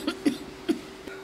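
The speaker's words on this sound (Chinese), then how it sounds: "最近啊老是咳嗽。" An older woman in a rural village coughs three times in short, fairly quiet bursts, with a faint fourth sound at the end and no talking.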